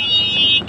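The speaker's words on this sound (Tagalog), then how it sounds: "Nakakabingi yung busina nito." Vehicle horn blaring loud and steady for the whole short burst, a sustained harsh electronic-sounding tone up close with no talk over it.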